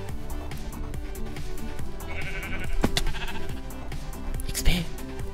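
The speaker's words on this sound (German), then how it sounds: "Die ist ein Schaf." A sheep bleats in Minecraft amid dense game music and sound effects, while people talk over the busy mix.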